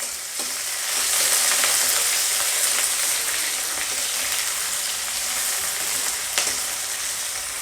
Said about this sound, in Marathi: तेल गरम झाले. यात घालूया जिरे. लगेचच कांदा घालायचा आहे.